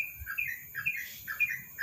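A yellow-vented bulbul, a kept songbird, gives a run of bright, clear chirping calls in quick repeated phrases, close and fairly loud over a soft low background rumble, with no talking.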